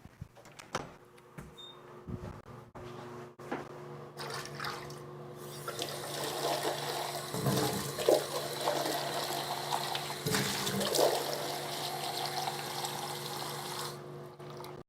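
Fresh water runs steadily from a tap, getting fuller and louder after the first few seconds and continuing as a constant rushing flow, with brief clunks and knocks at the start.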